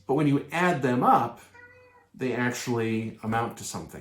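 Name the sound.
cat meowing in the background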